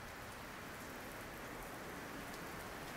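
Steady rain falls outside a shed during wet camping weather in Queensland, a constant soft hiss of drops on surfaces, even and unbroken throughout with no voices.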